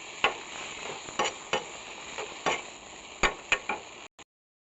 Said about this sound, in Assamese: জিৰাৰ গুড়া এড কৰাৰ পাছত ভালদৰে ভাজি লয়।